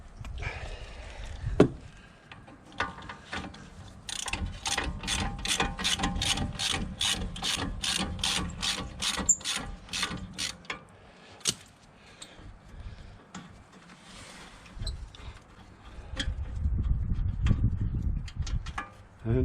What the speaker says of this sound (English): get in there with our ratchet and we can pull them out.